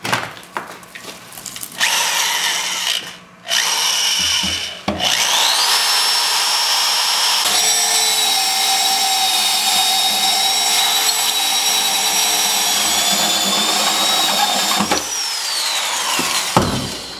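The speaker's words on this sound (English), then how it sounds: "I'm just going to get a drill bit and start drilling in this area" A power drill whines loudly and steadily, stopping briefly a couple of times before grinding on at a high, sustained pitch close by, drilling through a Porsche 914 for a wiring harness.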